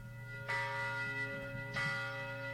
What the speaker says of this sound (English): Oh, you heard it. It's the Liberty Bells.